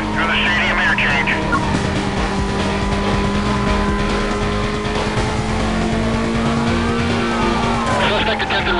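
Police pursuit in Need for Speed: Most Wanted, a race car roaring at high speed with tires skidding and squealing through a stadium interchange, loud and continuous under a radio voice talking.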